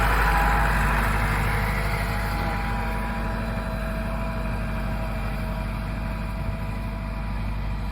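A farm tractor engine idles steadily nearby, a loud continuous low rumble with no breaks, heard alone.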